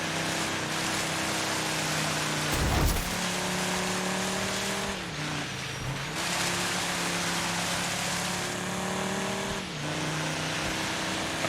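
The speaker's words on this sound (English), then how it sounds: "I can hear a car just on my left." Engine drone of a nearby rival car in the racing game DIRT 5, a steady loud revving roar with shifting pitch, a brief harsh burst near the start and another mid-way, running continuously with no talking.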